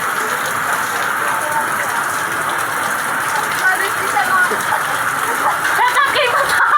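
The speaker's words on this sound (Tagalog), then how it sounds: "Tuloy pa rin ang ulan." Loud, constant hiss of heavy rain pouring down during flooding, a dense wash of sound with voices faintly mixed in.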